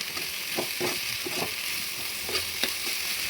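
Chopped onions frying in hot oil, a steady close sizzle with light stirring scrapes recurring through it, no voices.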